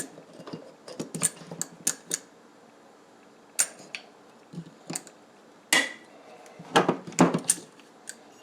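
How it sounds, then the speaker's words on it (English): Vice grips clamp and squeeze bent metal on a Convoy flashlight while it is worked straight. Scattered sharp metallic clicks and clanks come in irregular bursts separated by quiet gaps, close and fairly loud. "get some vice grips and get that bent back down the way it's supposed to be"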